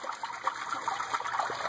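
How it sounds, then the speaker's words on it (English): Water gushes steadily from a hose into aquaponics tanks, a constant hissing splash up close and moderately loud with no talking. "So we are starting to fill up the tanks again with the hose"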